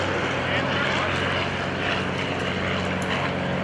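A WWII primary trainer airplane with a fixed-pitch propeller drones steadily from inside the cockpit, a loud continuous engine and propeller roar with a voice faintly mixed in.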